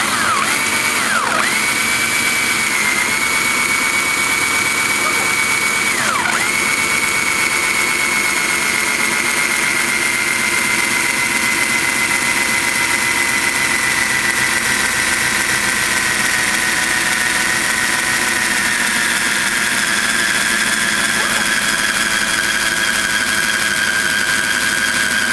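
An electric drill fitted with a paddle bit bores into a wooden MAME arcade cabinet, giving a loud, continuous whine that dips briefly at two points and then slowly drops in pitch as it cuts.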